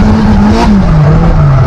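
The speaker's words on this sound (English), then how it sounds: "You can clearly hear there that he's on and off the throttle rapidly and actually very," A loud 1986 Formula One car engine revs hard and close, the pitch jumping as the throttle is snapped on and off in quick, aggressive bursts.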